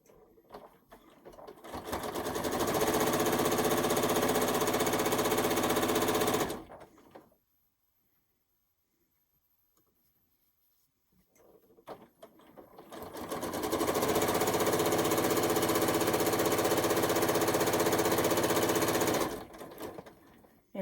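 A sewing machine straight-stitches a reversible quilt in two long, steady runs of loud, even mechanical whirring, separated by several seconds of near silence.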